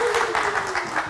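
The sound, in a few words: studio audience applause for guest Sharla Mars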